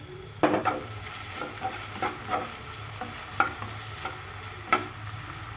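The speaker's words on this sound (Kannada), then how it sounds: "ಮಸಾಲ ನೀಟಾಗಿ ಫ್ರೈ ಮಾಡ್ಕೊಳ್ಳೋಣ್ರಿ ಎಣ್ಣೆ ಒಳಗೆ ಟೊಮೊಟೊ ಹೆಚ್ಚಿಟ್ಕೊಂಡಿದ್ದು ಹಾಕೊಳ್ಳೋಣ್ರಿ" Masala and chopped tomato fry in oil in a pan, giving a steady close sizzle broken by several sharp clacks and scrapes of a stirring spoon, with no voices.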